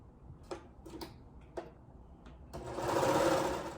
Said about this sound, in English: Let's just serge this.